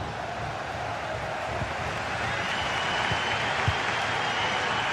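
A stadium crowd in a football video game, a broad continuous wash of cheering and applause with scattered claps, steady and fairly loud, no voice over it.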